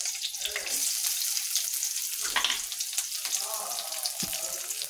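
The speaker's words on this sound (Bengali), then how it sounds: "এখন বাগারতে দিই। কীভাবে বাগার দিই দেখতে থাকুন।" Dried red chilies fry in hot oil to temper a black lentil dal, a steady close sizzle with a few brief stirring scrapes.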